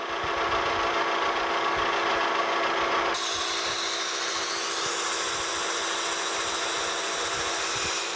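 A steady, loud grinding whir of a drill starting a hole in a steam locomotive bearing wedge on a machine, continuous throughout with a slight change in pitch partway, no voices.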